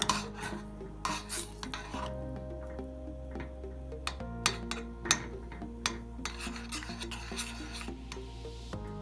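Butter being stirred in a pan for buffalo sauce, with steady scraping and ticking strokes of a utensil over a continuous hum, close, no talk.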